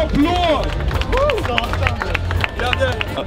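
An arena crowd at a fitness gala claps and cheers, with whoops and excited voices rising over the steady clapping and a low rumble of crowd noise throughout.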